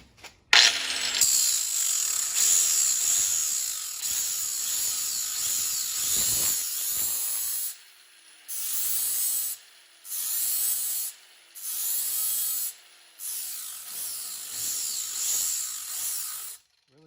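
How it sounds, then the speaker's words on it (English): Grinder working on a staked drive shaft u-joint of a Datsun 280Z, a loud high whining grind held for several seconds, then repeated short bursts with brief pauses between them. "I'll grab my grinder."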